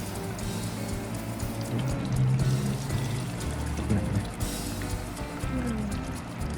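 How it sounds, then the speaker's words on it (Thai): Water pours steadily into an instant yakisoba noodle cup, a continuous splashing rush lasting several seconds, close by, with faint background noise. "แล้วก็เทน้ำเลย"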